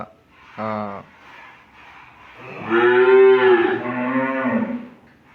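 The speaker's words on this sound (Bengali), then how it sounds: "ফার্মে আরও অন্য শেডেও গাভী আছে" Dairy cows on a farm moo nearby, a short low call followed by a longer, loud drawn-out moo, with a quieter stretch between them.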